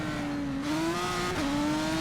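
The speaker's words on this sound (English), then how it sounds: "Listen to the engine." A race car engine in a sim racing game at Imola holds a loud, steady high rev with a whining pitch that rises slowly, dips briefly, then climbs again, with no talk over it.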